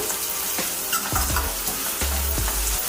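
Onions sizzle steadily in a frying pan for an Andhra-style fish curry, with a few low bumps from stirring scattered across the bed of frying noise; close and fairly quiet, no talking.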